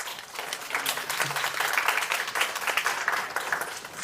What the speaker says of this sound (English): A better energetic round of applause.